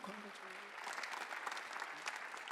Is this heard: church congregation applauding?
yes